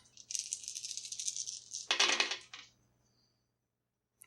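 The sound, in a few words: dice being rolled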